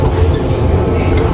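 Inside a train travelling toward Frankfurt, a loud steady rumble of wheels and carriage noise fills the space, with a faint whine running through it.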